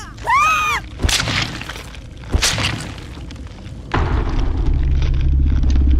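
Video game explosion mixed with other game sounds: a rising whistle-like squeal, sharp booming crashes and breaking debris, then a sustained low rumble that carries to the end.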